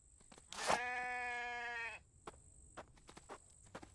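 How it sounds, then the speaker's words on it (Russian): A ram in a survival video game lets out one loud, drawn-out bleat lasting over a second, followed by quiet scattered clicks and small game sounds. "Баран, иди сюда."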